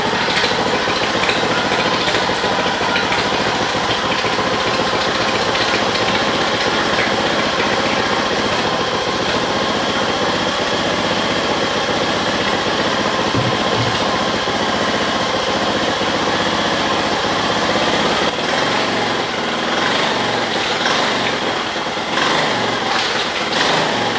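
Honda 2 hp outboard motor running after carburetor adjustment, a loud, steady high-pitched buzzing drone that holds evenly throughout with slight variation near the end.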